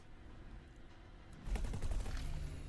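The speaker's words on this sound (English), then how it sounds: "let's check out how these Flak Cannons do" Flak cannons fire in the space combat game X4: Foundations, a rapid crackling burst of gunfire that breaks in midway over a low background rumble and continues to the end.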